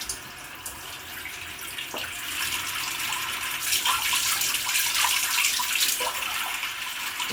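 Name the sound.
tap water running into cooking pot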